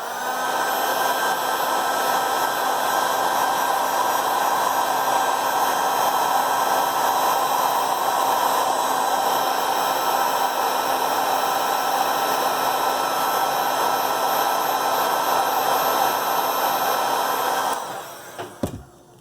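Heating tool blowing hot air onto the cracked back glass of an iPhone XS Max, a loud, even rushing whir that holds steady for most of the clip before cutting off with a few clicks.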